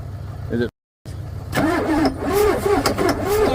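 A Ford 6.9 IDI turbo diesel cranks over and then catches, settling into a rough, loud running rumble close by, with a brief silent gap before the starter turns it over.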